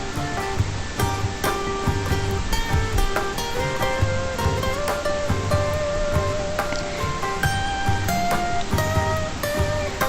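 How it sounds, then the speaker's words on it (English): Water from a shower runs steadily over a glass fermentation carboy being rinsed, a constant close hiss of spray with faint clinks and shifting tones as the glass fills and drains, no talking. "I am cleaning the glass carboy we will use for fermentation later."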